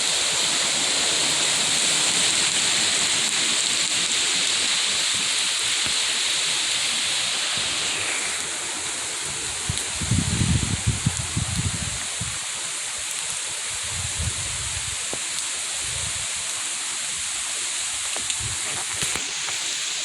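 Rain and gusty wind during Hurricane Milton, a loud steady outdoor roar and hiss with heavier low rumbling gusts buffeting the microphone midway, no speech.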